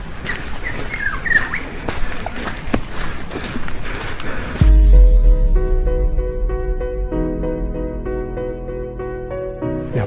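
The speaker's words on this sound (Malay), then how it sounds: "Oh, burung." Birds chirp with repeated short calls over a noisy outdoor background on a misty hillside in heavy rain, before a sustained musical tone takes over the second half.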